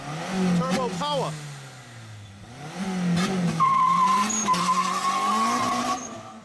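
A turbocharged Honda Civic Si with a K20Z3 engine spins its tires hard off the line, a loud skidding squeal over the rising engine note, with voices talking beneath throughout.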